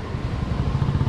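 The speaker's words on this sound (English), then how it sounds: "so many motorbikes" Motorbikes pass along a busy street in Pokhara, a brief, loud low engine rumble with no pauses.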